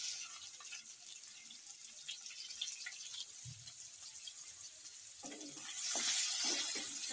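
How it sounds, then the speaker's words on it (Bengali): Chopped onions hiss in oil left over from frying prawns, a soft, fairly faint sizzle that grows louder and fuller toward the end. "আমি মাছ ভাজার তেলের ভিতর দিয়ে দিচ্ছি পেঁয়াজ কুচি,"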